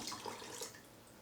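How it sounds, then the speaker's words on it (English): Extra water poured into a soap-making pot that already holds dissolved citric acid: a soft, steady splashing and trickling, faint and brief, with no talking. "So I'm going to go ahead and put my extra water in here."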